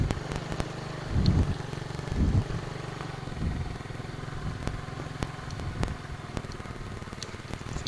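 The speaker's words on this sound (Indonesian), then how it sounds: "Parkir motor ya." A motorcycle engine rumbles low and steady while the bike is being parked, with a couple of brief revs early on and small clicks and knocks over the idle.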